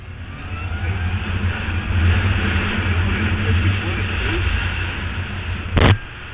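A Honda CBF1000 GT motorcycle engine drones and revs steadily nearby with rising throttle surges, ending with a brief sharp burst of noise.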